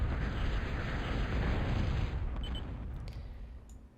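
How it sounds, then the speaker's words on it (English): Bombs from an attack explode in a real-time strategy game on the John's Pond map, a dense rolling roar of blasts that fades over a few seconds, loud and without talk. "You can see they're bombing right there."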